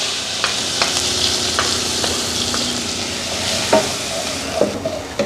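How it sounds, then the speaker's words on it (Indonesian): Ground spice paste stir-fried in hot oil in a wok hisses with a loud, continuous sizzle, broken by the repeated scrape and tap of a spatula against the pan. "Kalau minyak sudah panas, langsung kita tumis."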